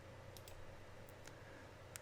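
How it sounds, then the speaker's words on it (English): A few soft, sharp mouse clicks, roughly three separate taps, faint against a quiet room hum while closing a reading window in Microsoft Word 2019. "let's close the Immersive Reader by clicking on this"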